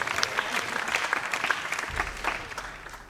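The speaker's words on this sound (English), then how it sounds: "Give him another clap." An audience applauds at a national youth jazz competition, a steady, moderately loud burst of clapping from a seated crowd, with a voice faintly mixed in.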